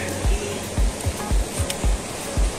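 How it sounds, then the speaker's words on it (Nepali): A river flows below a picnic spot, heard as a continuous rushing wash with soft low thumps repeating roughly every half second, steady and fairly close, with no talking. "तल खोला छ"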